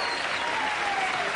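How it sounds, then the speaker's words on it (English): A late-night television studio audience breaks into warm, dense applause, a full wash of clapping heard close and steady for a brief moment. "Thank you for your kind applause."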